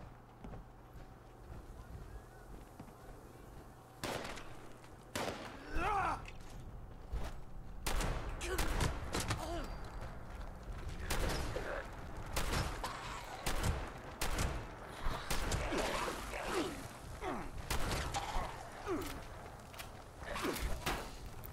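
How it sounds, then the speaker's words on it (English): Gunfire in a video game, with repeated sharp shots fired at the player in scattered bursts over steady ambient noise, alongside footsteps and movement sounds. "someone's shooting at me"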